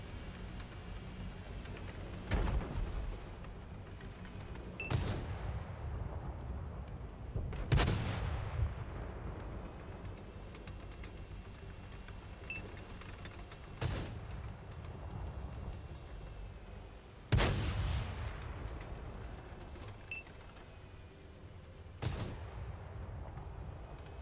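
Tank cannon shells firing in a tank video game, six heavy booming shots spaced several seconds apart, each a sharp blast with a decaying rumble over a constant low engine drone, no talk.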